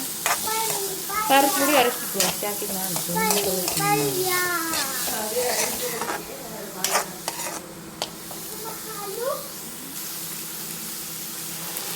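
Two finely chopped onions sizzle in a pan as they are stirred, a steady frying hiss running under a voice talking for much of the time, with a few sharp utensil clinks near the end.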